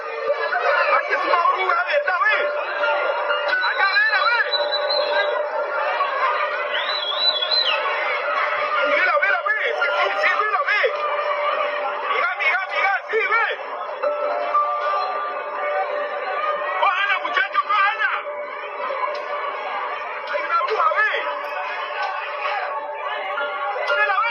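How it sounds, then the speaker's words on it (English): A rowdy crowd outside a building fills the air with overlapping chatter, calls and bursts of laughter, a steady dense murmur of many voices that never drops away. "A crowd of concerned, rowdy people trying to get a glimpse of something on the roof of a building"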